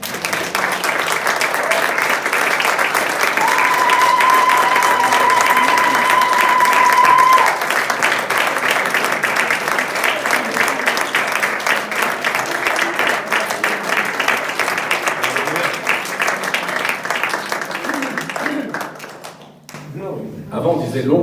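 A church congregation applauds steadily and loudly for about eighteen seconds, a dense wash of clapping with cheering voices mixed in, before it tapers off near the end.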